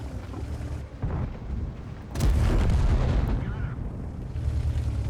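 A tank's ammo rack exploding in the World of Tanks video game: a heavy, loud boom bursts in midway and rumbles on, following a rougher stretch of muffled game noise.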